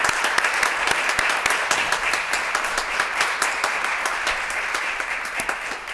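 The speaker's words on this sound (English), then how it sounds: "give another round of applause for our graduates and students." A large audience applauds EMS graduates and students at a city emergency medical services promotion ceremony, a dense, sustained roar of many hands with sharp individual claps standing out, steady across the whole stretch.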